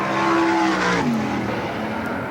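A 1986 World of Outlaws sprint car at Las Vegas Speedway roars loud and close on its final time trial lap down the backstretch into turn three, engine pitch holding high then dropping as it sweeps past.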